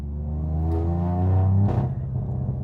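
Toyota Yaris GR with a straight-pipe exhaust revving, a deep rumbling engine note climbing in pitch, then a sharp blip and crackling drop, close and loud with no talk over it.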